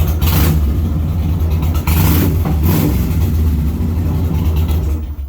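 A 2004 Kawasaki Meanstreak 1600 cruiser fitted with Cobra exhaust pipes idles with a deep, loud rumble close by, punctuated by several sharp throttle blips, with no one talking.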